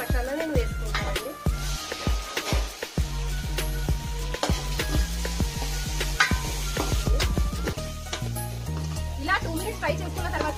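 Masala spice paste sizzles and fries in a pan for biryani, with steady stirring and scraping of a spoon against the metal, while someone talks over the cooking throughout.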